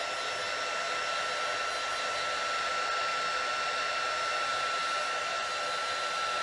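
An embossing heat tool melts embossing powder on a handmade card, blowing as a steady, loud, continuous whir with a high tonal whine throughout, with no voices.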